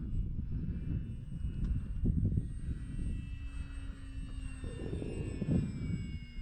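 An X-Fly Tasman RC plane flies at a distance, its motor a faint, steady whine over light wind noise outdoors.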